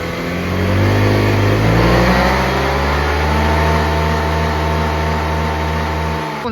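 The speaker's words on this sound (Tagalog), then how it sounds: "ngayon paungulin ulit natin to tignan natin kung lalagpas po siya ng 139" A motorcycle engine revs loudly and holds a high, sustained drone close by, then drops off at the end.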